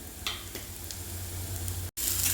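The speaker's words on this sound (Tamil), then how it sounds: "வெங்காயம் நல்லா வசங்கி வந்துட்டு அதுக்கு பிறகு கேரட்டும் நம்ம வெட்டி வச்சுருக்க பாவக்காயும் கூட போடணும்" Carrot and bitter gourd sauté with onions in a pan, giving a steady sizzle with soft crackles and a few stirring scrapes, then a brief cut followed by a brighter, louder sizzle.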